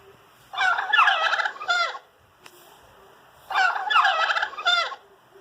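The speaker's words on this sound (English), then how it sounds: "A turkey." Wild turkey in an eastern forest gobbling in two loud, rippling bursts, each lasting about a second and a half with a short pause between, close and clear with no voices.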